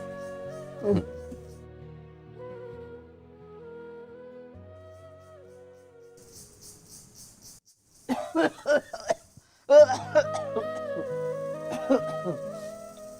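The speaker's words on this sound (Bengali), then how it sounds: "তোমার কাশি এখনো ভালো হয় না?" A single sharp cough rings out early over quiet background music, followed later by bursts of voices and clattering.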